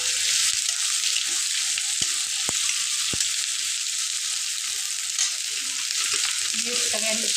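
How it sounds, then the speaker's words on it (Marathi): Chopped onion with a little salt frying in hot tempering oil for besan methi: a dense, steady, close sizzle throughout, broken by a few light taps of a spoon. "कांदा लवकर फ्राय होण्यासाठी आणि नरम होण्यासाठी पटकन आपण त्याच्यात थोडंसं मीठ घालून घेऊया"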